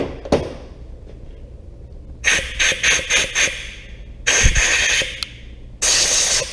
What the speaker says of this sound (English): Take your air blower, clean off your bit.